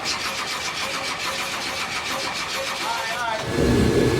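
A big block V8 engine in a Firebird cranks without ignition, a fast rhythmic chugging of the starter, then shifts to a louder, deeper rumble near the end.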